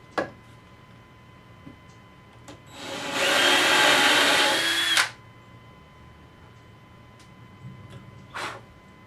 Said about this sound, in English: on one end, I'm going to drill 2 holes